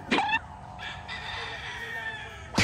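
A rooster crows nearby on a farm over a low hum, with a few sharp squawks at the start and end.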